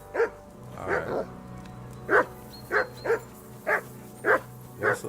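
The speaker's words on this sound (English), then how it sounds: "Call off that mutt of yours!" A dog barks repeatedly in a video game, with about eight short, fairly close barks at an irregular rhythm over a low background hum.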